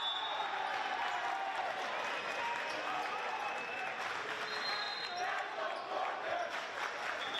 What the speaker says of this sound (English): Milford fans trying to make their voices heard here for the first time